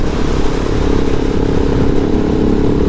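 A KTM 690 SMCR single-cylinder supermoto, a 2019 model, rumbles steadily at close range while being ridden, its low engine drone loud and continuous with no voices.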